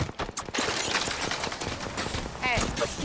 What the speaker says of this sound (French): Je tire.